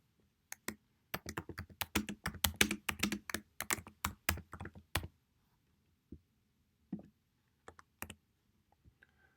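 Caption text being typed on a computer keyboard: a close, quiet burst of rapid key clicks, then a few scattered single presses trailing off into silence.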